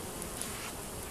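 Honeybees buzz over natural comb during an open hive inspection, a steady, even drone that stays close and fairly quiet for the whole short moment, with no voices.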